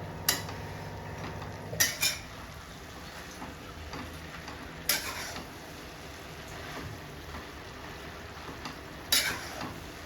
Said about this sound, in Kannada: ಚೆನ್ನಾಗಿ ಫ್ರೈ ಮಾಡಬೇಕು